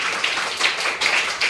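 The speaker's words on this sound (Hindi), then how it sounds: "शाहिद के लिए ताली।" A classroom of students claps for a classmate, a dense burst of many hands applauding close by, steady and brief without pause.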